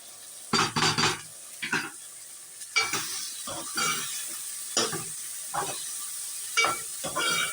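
Spices stirred and frying in a pan for a dried fish curry, with steady close sizzling broken by repeated scraping, clattering stirs against the pot.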